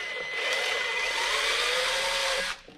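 A power drill bores steadily through a rear LED light on a custom bus, giving a loud, continuous whirring grind for about two and a half seconds before stopping abruptly.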